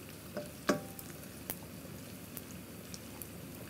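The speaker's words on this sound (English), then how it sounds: "I'm gonna turn over the sweet sausages here" Sweet sausages sizzle and crackle softly in a pan on very low heat, with a louder clack and scrape as they are turned over and scattered small pops afterward, close but faint.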